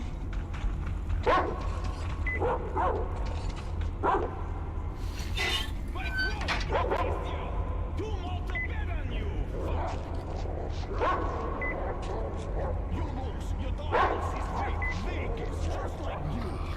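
Dogs in the video game Metro Exodus bark, yip and whimper in scattered bursts at mid distance, heard over constant low game rumble with some talking mixed in.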